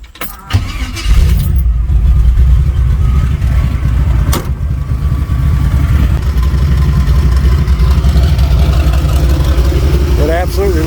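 Chevy C20 engine cranking and firing up without a pump shot, then settling into a loud, close, rough-running idle with a deep rumble that holds steady throughout.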